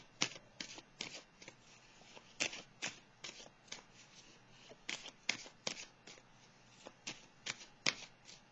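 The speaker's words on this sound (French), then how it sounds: "Je vais déposer une autre carte ici pour l'espoir et la récompense." Tarot cards shuffled close by in a steady run of crisp riffling flicks and soft slaps, repeating roughly every half second against a quiet background.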